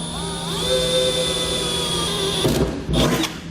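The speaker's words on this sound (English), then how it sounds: "we're going to drill out these 4 locations with a small drill bit to get our pilot hole started." A power drill with a small bit drills pilot holes in a pickup truck bed: a steady whining motor hum with a high tone, then a couple of rough grinding bursts near the end, close by.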